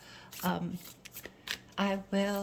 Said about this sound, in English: I'm going to shuffle it now